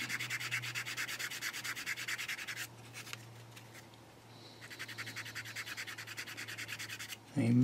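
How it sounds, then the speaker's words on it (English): Rapid back-and-forth rasping of a sanding stick rubbing a plastic Chieftain Mk.10 tank model kit, close up, in two bursts separated by a short quieter pause. "just come at it with a sanding stick afterwards"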